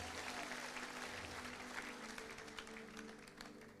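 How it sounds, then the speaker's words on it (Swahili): An audience at a church fundraising gathering applauds, a dense steady wash of clapping from many hands that fades slightly toward the end. "Si mjipigie makofi."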